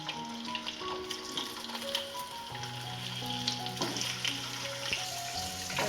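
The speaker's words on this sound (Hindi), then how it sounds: "ऑयल हो चुका है गरम, तो ये चिकन मैं इसमें ऑयल में ऐड करती हूँ।" Chicken fries in hot oil for a Shinwari karahi, giving a steady close sizzle and crackle that grows fuller midway, with occasional clinks and no talking.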